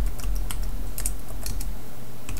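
Fast, uneven typing on a computer keyboard while searching in Ubuntu's Unity 2D desktop, close, crisp key clicks tapping continuously with no talk.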